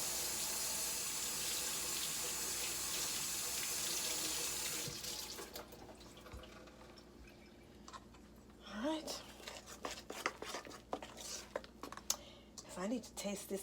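A kitchen tap runs steadily as a finger is rinsed during muffin baking. The water hisses for about five seconds, then shuts off, followed by quiet voices and small handling sounds.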